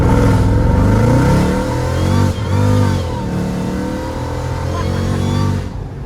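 Mercedes E55 AMG launching from 0 to 60 with traction control on, a loud close-up engine rising through revs, with a brief dip at a gear change before pulling hard again and cutting off near the end.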